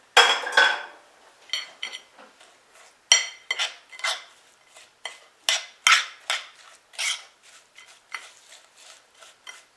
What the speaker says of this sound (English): I'm gonna stir this up in my pie pan.